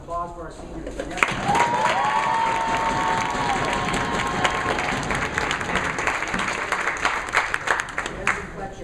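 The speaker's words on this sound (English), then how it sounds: "One more Falcon round of applause for our seniors." A crowd at a university track and field senior day breaks into steady, sustained applause and cheering for the graduating athletes, with an announcer's voice and scattered shouts carrying over the clapping.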